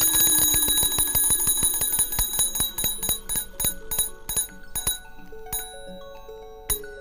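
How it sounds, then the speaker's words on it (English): Bell rung by an early electric telegraph receiver, struck in a fast run of bright metallic rings that slow and space out, each ring decaying with a lingering tone. "and triggers a bell"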